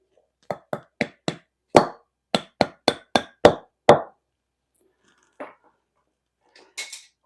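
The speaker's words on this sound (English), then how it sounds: "Pound this back in." A hammer pounds a bushing back into a Craftsman T240 riding mower: about ten sharp, loud metallic strikes in a fast, slightly uneven rhythm, followed by quieter clinks and a brief clatter.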